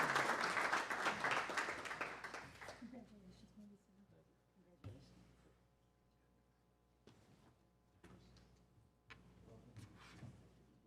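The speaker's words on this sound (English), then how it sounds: "let's give them another round of applause." An audience at a Board of Education meeting gives honorees another round of applause. The clapping is full for nearly three seconds, then thins out and fades to a quiet room with a few scattered ticks and knocks.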